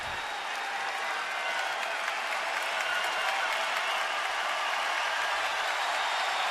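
Large baseball crowd at Nationals Park applauding and cheering steadily, a dense, even roar of clapping and voices that holds at full strength throughout without letting up.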